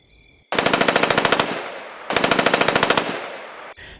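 Two long rapid-fire bursts from an M16 rifle, each a fast string of sharp, loud cracks, with a brief pause between them and the second burst running on for over a second.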